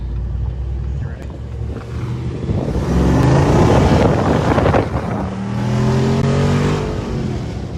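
A stock Jeep's engine revs and accelerates with a rising exhaust roar that swells, drops back and climbs again, heard from inside the vehicle over wind noise while people talk.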